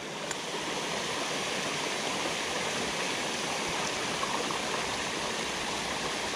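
A small waterfall on a trout stream rushes in a steady, broadband wash of falling water, close and continuous, with no voices.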